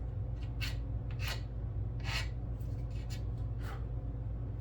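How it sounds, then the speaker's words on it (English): Several short raspy strokes of a sanding pad on a plastic model car part, close and brisk, spaced irregularly over a steady low background hum. "Looks like we need to take the sanding pad there and there."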